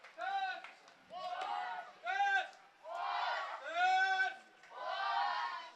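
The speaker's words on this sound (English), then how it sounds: "And the crowd getting into it here with their Sasquatch chants." Baseball crowd at a Spearfish Sasquatch versus Fremont Moo doubleheader game, chanting in loud rhythmic bursts of massed voices, six swelling shouts separated by short pauses, close and dominant.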